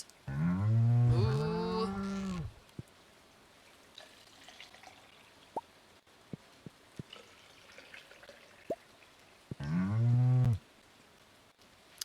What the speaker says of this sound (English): Gotta say hi to our cows.